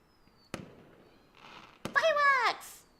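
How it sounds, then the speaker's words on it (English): Game fireworks in a Doki Doki Literature Club night-sky scene: two sharp bangs followed by a rising, whistling launch streak that swells loudly, then fades, with faint tones in between. "Fireworks!"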